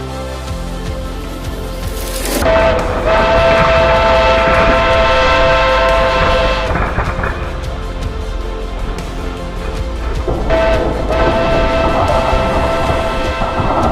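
A Lego train slams into a random Lego build, a sudden loud clatter of plastic bricks at about two seconds followed by a continuous rattling, whirring roll of the toy train that swells again near the end.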